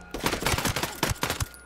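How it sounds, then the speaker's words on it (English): Rapid gunfire from Ghost Recon Breakpoint: a close, loud burst of around ten sharp shots in quick irregular succession, ending abruptly, with no talk over it. "Pretty sure they heard the gunshot."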